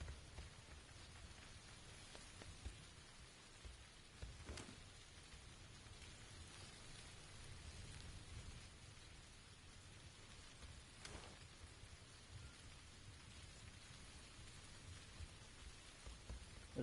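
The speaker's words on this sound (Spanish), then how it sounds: "No, con esta lluvia es muy difícil." Rain in the battle royale game PUBG falls as a steady, soft patter on surfaces throughout, with a couple of brief sharper taps and no voices.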